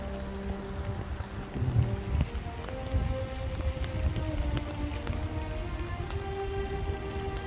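Steady rain falls at a cherry blossom viewpoint in Jinhae during the festival season, a continuous close hiss of drops pattering on surfaces with faint wind throughout.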